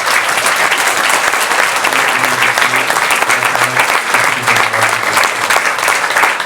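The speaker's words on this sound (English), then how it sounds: "if we could just give a round of applause for our panel" Steady audience applause for a panel at a presentation on Jordan's blue economy, dense clapping from a seated crowd at even loudness throughout, with a faint low hum underneath.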